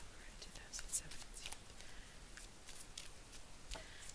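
Soft papery riffling and shuffling of tarot cards, close and quiet, with faint whispery breaths over a low hiss.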